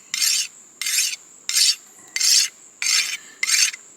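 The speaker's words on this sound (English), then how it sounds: "people are sharpening machetes here as they're heading in and out of the jungles, as they always carry a small little file with them" A small hand file rasps along a machete edge in the jungle, six even strokes in a steady rhythm with short pauses between, close and clear with no voices.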